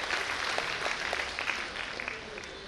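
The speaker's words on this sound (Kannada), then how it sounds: "ನಿಮ್ಮೆಲ್ಲರ ಜೋರಾದ ಚಪ್ಪಾಳೆಯ ಧ್ವನಿಯ ಜೊತೆಯಲ್ಲಿ" An audience claps at a large community welfare event in 2024, a brief burst of close applause that fades toward the end with a little crowd noise behind it.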